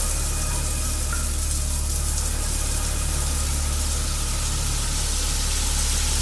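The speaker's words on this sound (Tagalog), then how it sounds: "Na agad na sinundan ng pagragasa ng malakas na tubig." Strong water gushing in an apartment bathroom, a steady broadband rush with a low hum, continuous and fairly close throughout, with no talk.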